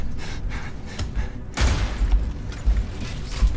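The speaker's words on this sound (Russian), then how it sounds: "Нам дают очки за то, что мы взрываем вот эти вот горючие смеси." Flammable canisters explode in the shooter video game Alien Rage, a sudden loud blast followed by repeated heavy booms and thuds amid constant low game noise.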